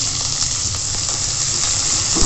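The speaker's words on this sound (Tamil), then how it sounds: "ஆனியன்ஸ் நல்லா ஃப்ரை ஆகட்டும்." Sliced onion sizzling in hot oil with cumin, a steady close hiss and crackle throughout with faint stirring ticks and no talk.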